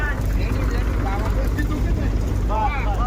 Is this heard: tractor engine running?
yes